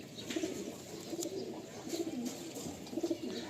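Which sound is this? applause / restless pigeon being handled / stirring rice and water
restless pigeon being handled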